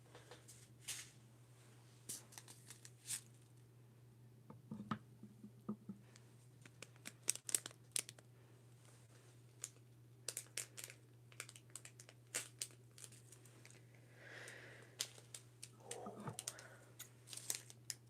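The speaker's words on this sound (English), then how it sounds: "Then we just cut along the dotted line." Scissors cut paper along a dotted line in a quiet room, making faint, irregular snips and crisp rustles over a low steady hum, with brief pauses between cuts and no talking.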